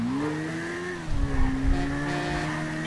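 Suzuki V-Strom motorcycle engine in GTA V holding a steady high rev against the limiter, briefly dipping and rising with sputtering bursts, loud and close with no talk.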